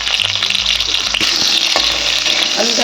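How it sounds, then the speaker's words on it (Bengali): Potatoes fry in a pan of hot oil already seasoned with split dried red chillies for a vegetarian curry, a loud, close, steady sizzle with stirring scrapes and clanks throughout, and no talk. "এবার আমি আলুটা ভেজে নেব।"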